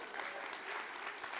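Audience applause on a Québec comedy talk show, a steady dense patter of many hands clapping throughout, fairly soft and even, with no voices standing out.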